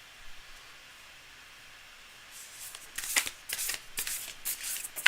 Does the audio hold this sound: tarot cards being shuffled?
yes